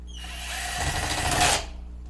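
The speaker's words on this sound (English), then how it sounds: "I'm going to take my drill" A power drill whirs in short bursts, its motor pitch rising as it drives screws into a floater frame for artwork, close and loud with no voices.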